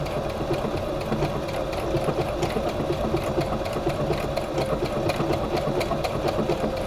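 Sewing machine stitching fabric, a steady rapid mechanical chatter of the needle running continuously at moderate volume, close by and alone.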